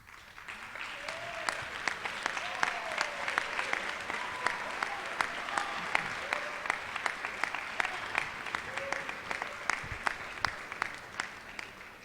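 Sustained applause from an audience at a high school senior awards ceremony, dense steady clapping throughout with faint voices and a few whoops underneath.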